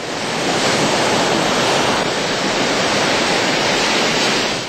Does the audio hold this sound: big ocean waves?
yes